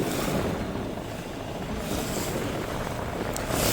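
A fishing boat heading out to sea from Karanja jetty, its steady engine rumble blending with rushing water and heavy wind buffeting close to the microphone, loud and continuous without talk.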